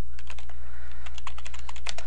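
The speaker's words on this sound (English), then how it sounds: "we just typed in telnet and enter" A computer keyboard clicks as a short command is typed and entered in a Windows command prompt, with quick, light, close keystrokes over a steady hum.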